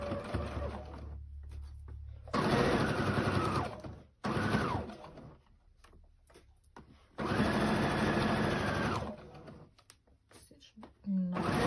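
A sewing machine stitches along the edge of piping cord in bursts, starting and stopping several times with a steady whirring hum in each run, close by, and a voice speaks in the pauses.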